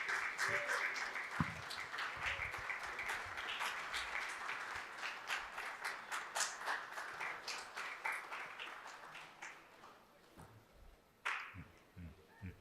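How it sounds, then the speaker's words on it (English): Applause from the audience at a plenary session award presentation, a steady wash of many hands clapping that thins and fades toward the end before a brief final burst. "Keep the applause coming, please."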